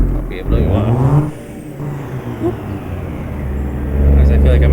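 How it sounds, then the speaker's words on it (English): A semi-truck engine in American Truck Simulator drones low and steady at certain RPMs with an odd tone, swelling louder near the end while someone talks over it. "at certain RPMs, this truck has a weird kind of noise to it, it seems"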